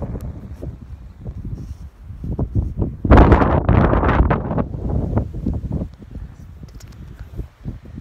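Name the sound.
strong wind blowing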